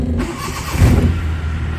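A 2015 Suzuki Mehran VX car engine cranks and catches, a brief starter whirr followed by a loud, close engine rumble settling into idle.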